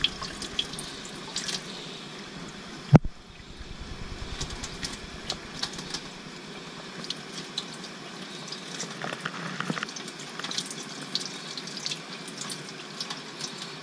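Chanterelle mushrooms rinsed under running tap water, a steady faint splashing stream with small drips and one sharp knock early on, no voices.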